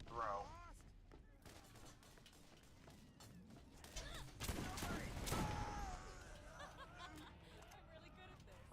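Gunfire from the Borderlands video game rattles in dense volleys, swelling into a loud burst midway, with players' voices talking over the shooting throughout.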